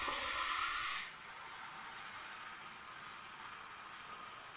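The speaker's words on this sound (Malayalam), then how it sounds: "ചൂടായി നമുക്ക് ഒരു തവി മാവ് ഒഴിച്ചു കൊടുക്കാം." Rice flour dosa batter hits a hot pan with a loud initial hiss that settles after a second into a steady, softer sizzle continuing alone.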